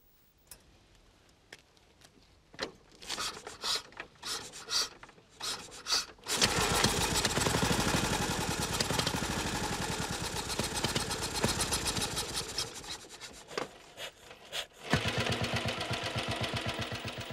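An old restored motorcycle engine gives scattered clicks and bursts, then catches into a loud, steady running clatter, dips briefly, and picks up again with a rhythmic idle.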